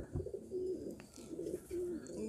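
Homing pigeons cooing in low, repeated rolling calls, fairly close, over a steady background hum.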